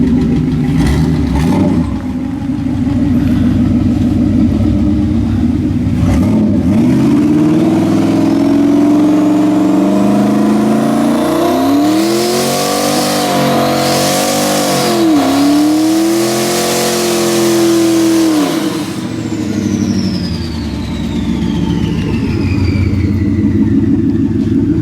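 A car engine running on seven cylinders revs loudly and roughly in a garage, climbing and falling through several long pulls over about twenty-five seconds, with no talking.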